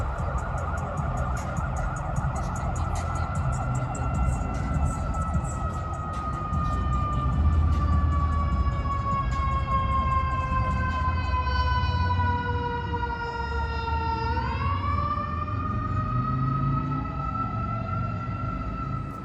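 Police vehicles escorting cars through a street sound their sirens, a loud wailing tone that sweeps slowly downward, then dips and rises again near the end over steady traffic rumble, without talk.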